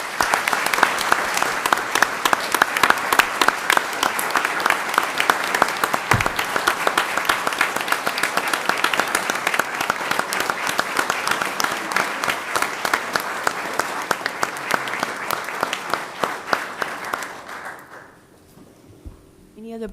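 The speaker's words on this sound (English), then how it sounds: "give them a round of applause" Applause fills a school board meeting room, a steady crowd clapping for nearly the full stretch before it fades out abruptly near the end.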